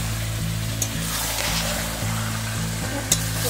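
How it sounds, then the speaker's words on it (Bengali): Chicken curry seasoned with ground black pepper and cardamom sizzles steadily as it is stir-fried in a pan, with a constant frying hiss and a few sharp scrapes of the spoon against the metal. "এখন ভালো করে আবারও কষিয়ে নিচ্ছে।"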